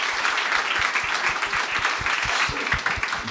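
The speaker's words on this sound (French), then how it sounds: "Yann Thériault, applaudissez Yann." A live audience at a French-language talk show or podcast taping breaks into applause, a dense, steady wash of many hands clapping at close range for the whole few seconds.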